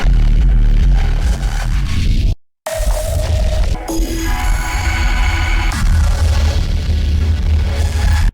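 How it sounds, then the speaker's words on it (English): Gritty neuro bass synth tones play in shifting octaves, a dense, distorted sustained sound broken by a brief dropout and changing pitch partway through, with no voices. "if I just play this and play like different octaves on the keyboard"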